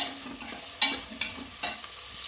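Diced vegetables with potato and curry leaves sizzling in oil in a pan, a steady close fry broken by three sharp scraping stirs of a spoon.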